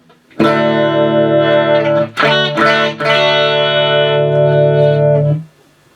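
Electric guitar played through a 1973 WEM Dominator MK3 valve amp with treble boost: a loud, sustained distorted chord that rings for about two seconds, then brief re-struck chords before another long ringing chord fades out.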